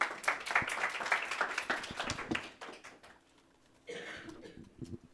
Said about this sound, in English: please give Dr. Johnson a great round of applause